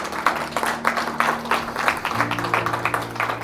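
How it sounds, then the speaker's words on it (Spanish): A church congregation claps together, a dense patter of many hands mixed with a sustained organ or keyboard tone and some background voices. "Dan un aplauso al Señor por eso."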